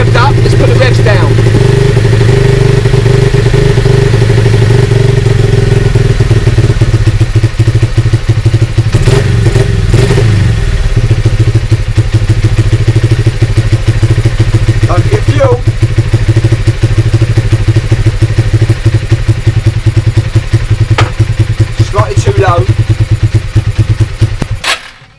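A four-stroke motorcycle engine runs loudly and close up during carburettor tuning, its revs rising briefly and settling back to a steady idle, with occasional clattering knocks.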